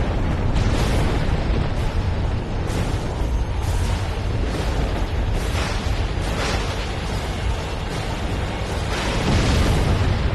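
Cosmic destruction rendered as a continuous, loud explosive roar with rumbling booms and bursts swelling throughout, heavy low end and no speech.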